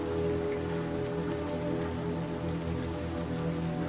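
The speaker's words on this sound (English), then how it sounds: "Man, it's really raining." Heavy rain in the video game Little Nightmares 2 falls as a steady, dense wash of patter and hiss, constant and even throughout, fairly quiet with a low ambient hum underneath and no voices.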